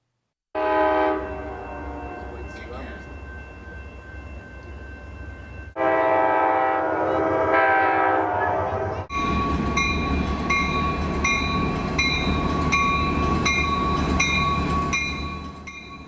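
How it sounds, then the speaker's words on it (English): A train blares its horn in long sustained blasts, loud and close, then rumbles past with rolling wheel noise under a bright, steady whistle-like tone. "You have probably heard trains, even seen them."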